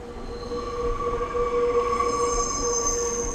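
A train pulling out of a small Japanese village station, with steady metallic wheel squeal and tonal ringing over a low rolling rumble, moderately close and continuous, with no talking.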